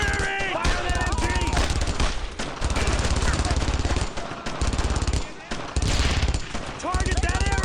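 Machine gun fire in the World War II shooter Brothers in Arms: Road to Hill 30, with long loud bursts of rapid automatic shots broken by short pauses, while soldiers shout orders over the gunfire.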